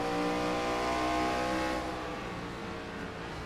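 A race car engine at Bristol in a MARCA Racing Series event roars loudly and steadily as the driver throttles up toward the high line, with harmonic engine tones and no talking.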